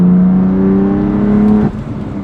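A BMW M4 CS engine with ZF automatic gearbox drones steadily while driving, a loud close hum that holds then drops sharply as the revs fall near the end, with no talking.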